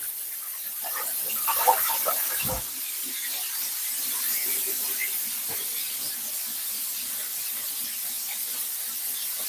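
Hands being washed under a running tap give a steady hissing spray of water with brief splashes and bumps near the start, close and alone.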